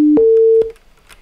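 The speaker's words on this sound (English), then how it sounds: "it plays a random amount of tones." Pressing A in a video game triggers a short run of electronic tones: a brief lower beep, then a longer, steady higher tone, sharp clicks between, fading to near silence afterward.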